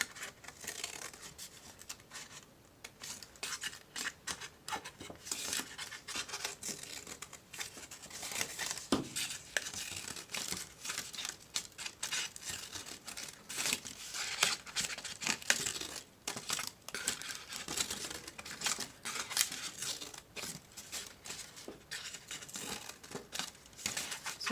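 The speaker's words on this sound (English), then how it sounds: "Now we're going to take our scissors and cut all the way down to that circle." Scissors cut slits in paper for a children's basket-weaving craft, with quiet, irregular snips and crinkling paper rustles repeating close by for a long stretch, faint and without talk.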